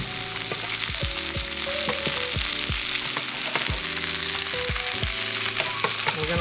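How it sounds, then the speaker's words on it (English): Turkey breasts sear in hot oil in a pan with a steady, loud broadband sizzle, punctuated by repeated clinks and scrapes of a utensil against the pan; no voices are heard. "now that our oil's hot, we're going to carefully add our turkey breast. And we're going to sear these turkey breasts."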